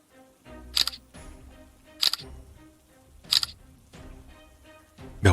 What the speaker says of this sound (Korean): 몇 번의 셔터음이 나는 동안